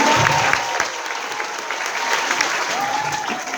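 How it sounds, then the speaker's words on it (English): An audience gives a steady round of applause, a dense even patter of many hands clapping at moderate loudness throughout. "Everyone give her a round of applause"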